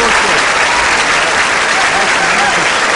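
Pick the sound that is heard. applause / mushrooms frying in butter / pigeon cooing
applause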